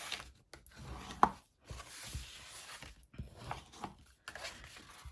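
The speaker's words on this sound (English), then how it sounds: "with my bone folder, I'm just going to fold all of these lines and get a good crease" Cardstock for a Halloween box is creased with a bone folder, giving quiet, irregular scraping and rubbing strokes with a few soft taps, close and faint.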